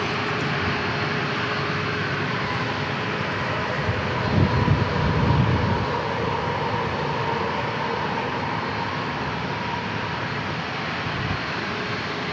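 A jet airliner roars at San Diego International Airport, a broad, steady engine rumble and hiss that swells briefly midway, heard from a distance across the airfield with no talking.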